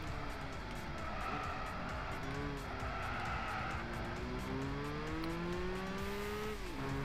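Gran Turismo 6 racing game: a race car engine drones steadily, pitch rising and falling through gear changes, with tire squeal through corners in a city trial, continuous and loud with no talk.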